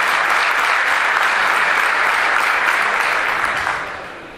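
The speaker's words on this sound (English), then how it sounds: "So let's just give her one more round of applause." A large audience applauds loudly and continuously, a dense wash of clapping that holds steady before fading toward the end.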